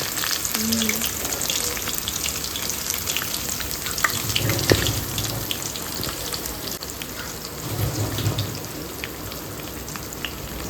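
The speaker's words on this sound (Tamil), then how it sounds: "பூண்டுலே கருவேப்பிலை கொஞ்சம் போட்டுக்கலாம். நல்லா வதக்கிக்கலாம்." Garlic and curry leaves sautéing in hot oil after cumin, for a green turkey berry kulambu, with a steady close sizzle and crackle throughout, a few louder spits and stirring bumps partway through.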